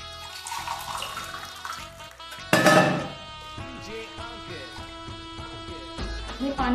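About one and a half glasses of water splash into a heated kadai for rice bhakri, a short loud pour and hiss standing out mid-clip over quieter background sounds.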